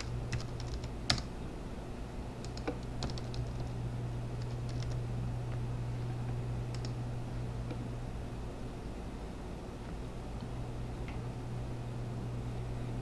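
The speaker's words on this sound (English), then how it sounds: "Now once you type in the address" Typing on a computer keyboard as an address is entered: scattered, close key clicks in short bursts and pauses over a steady background hum of fan or air noise.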